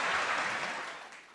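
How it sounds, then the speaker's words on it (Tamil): An audience at a speech event claps in a short burst of applause that starts full and gradually thins and fades out, with no speech over it. "ஒரு நல்ல கைத்தட்டல் கொடுக்கலாம்."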